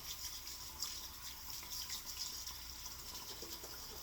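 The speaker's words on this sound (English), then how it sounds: "Just need to rinse this brush out." Tap water runs steadily as a shaving brush is rinsed under it, a soft continuous hiss and splash at low level without pause for about four seconds.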